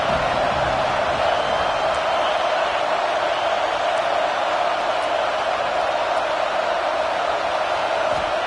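Stadium crowd in a college football video game, NDL Season 33 with Connecticut Huskies at NC State Wolfpack, on a third-down red zone play: a constant, dense roar holding level throughout with no clear breaks.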